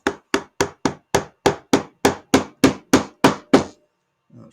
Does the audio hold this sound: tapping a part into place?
yes